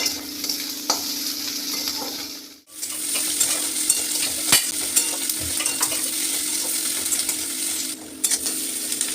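Chopped onions and green chillies fry in mustard oil in a wok while a spatula stirs them, a loud, steady close sizzle broken by a brief hush and occasional metallic scrapes and clinks, with no talking.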